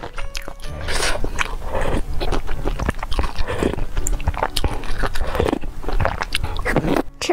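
Close-up biting and chewing of a rich matcha cheese dessert, loud continuous moist mouth sounds with soft crunches and squelches, steady throughout with no talking.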